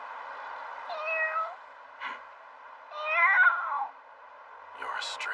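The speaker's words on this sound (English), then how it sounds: "Is this your cat, girl?" A stray cat meows several times, drawn-out and plaintive, fairly close, with short pauses between calls and a brief breathy sound in between.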